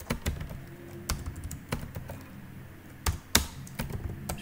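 Code being typed on a computer keyboard, a string of sharp, irregular key taps with brief pauses and a couple of louder strikes, close and clear with no talking.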